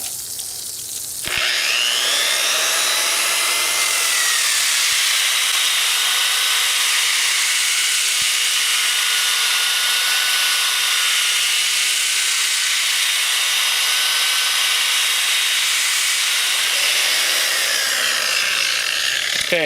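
A grinder with a polishing pad works a concrete countertop at reduced RPM, giving a loud, steady, high-pitched whir with a hissy edge that starts about a second in and runs unbroken without voices.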